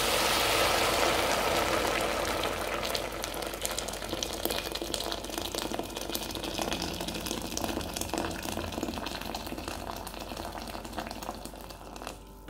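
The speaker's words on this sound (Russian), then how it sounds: "Чайник вскипел, и я наливаю кипяток." Boiling water from a kettle pours into a soup pot with a loud rushing splash that fades into a gentler bubbling and sizzling, close by, with no one speaking.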